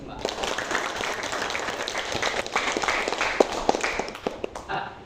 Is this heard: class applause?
yes